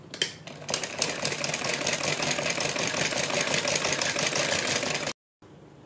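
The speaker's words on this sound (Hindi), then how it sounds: "पाइपिंग के बिल्कुल बराबर बराबर में सिलाई लगाते जाएंगे" A sewing machine stitching piping onto a salwar runs in a fast, steady mechanical whir, close and continuous for about five seconds before stopping abruptly.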